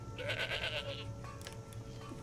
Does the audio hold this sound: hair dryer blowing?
no